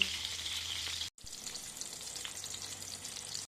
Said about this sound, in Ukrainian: Смажу на розігрітій рослинній олії з двох сторін до готовності.